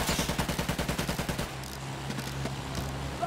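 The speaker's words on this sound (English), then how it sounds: "Everyone is shooting us." Rapid automatic gunfire from the World War I shooter Battlefield 1 on the Heligoland Bight map, a fast steady rattle of shots for about a second and a half, then a low droning hum with faint scattered pops.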